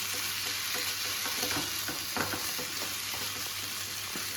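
Precooked chicken stirred in a frying pan over a low flame: a continuous close sizzle with scraping strokes of the spoon, no voices.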